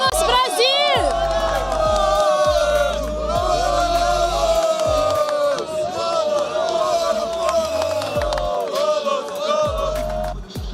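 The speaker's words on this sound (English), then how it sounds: "We have people cheering here, Brazilians here, everywhere." Brazilian fans cheer and shout loudly as a dense, continuous crowd roar at a League of Legends esports event, with whoops and babble swelling throughout.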